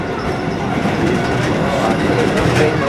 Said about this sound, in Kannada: ಟ್ರೈನ್ ಬರ್ತಾಯಿತ್ತು. ಸೊ ಈಗ 2 ಟ್ರೈನ್ ಹೋಗ್ತಾರೆ.